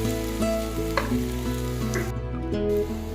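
Onions browning in a pan, a steady close sizzle with light stirring bumps and a faint tonal hum underneath.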